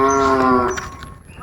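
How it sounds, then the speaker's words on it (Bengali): A cow lets out one loud, close moo that fades away within about a second, with no talking. "গরু হাম্বা হাম্বা ডাকে"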